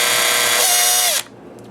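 A power drill fitted with a small bit backs screws out of the black face of a Vex robotics motor, a loud close whine lasting about a second with a brief pitch drop as it stops.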